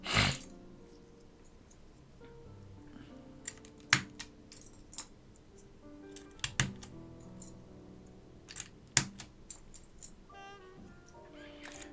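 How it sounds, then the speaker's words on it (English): Scattered plastic clicks and taps as gray keycaps are pressed onto a vintage Alps keyboard, irregular and close, some sharper snaps among softer fiddling, quiet room with no talking. "I'm just doing my gray keycaps first."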